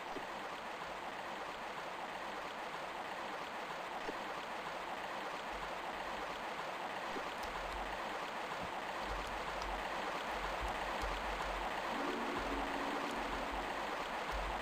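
Water current flowing steadily in the Tomb Raider video game, a constant even rushing that stays moderately quiet from start to finish.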